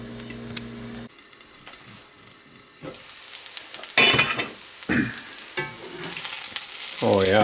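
Dryad's saddle (pheasant back) mushrooms fry in a pan, with an even sizzle that drops away after a second, then returns in loud bursts of stirring and scraping.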